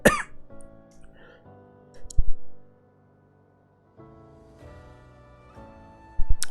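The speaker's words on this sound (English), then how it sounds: "I just choked on some saliva" A person coughs and sputters after choking on saliva, with a brief burst of coughing near the start, another in the middle and a short cough at the end, all fairly close over a low steady background hum.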